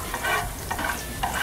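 Grated garlic fries in oil in a tray, giving a steady close sizzle while a spoon stirs through it with soft scraping sweeps.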